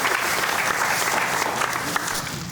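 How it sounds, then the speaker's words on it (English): A comedy show audience claps continuously and fairly close, a dense, even patter of many hands with a faint crowd murmur, sustained throughout. "clap for yourself"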